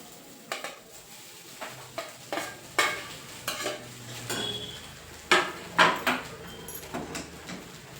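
Carrot rice is stirred and fried in a pan, with a utensil scraping and tapping in irregular bursts over a faint, quiet sizzle; close and without talk.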